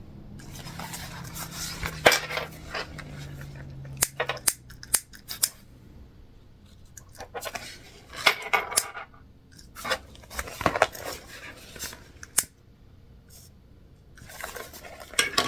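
Scissors snip loose threads from the top stitching on a sewn fabric craft-show wristlet, giving repeated sharp close clicks in irregular bursts, with faint rubbing and handling in between and no talking.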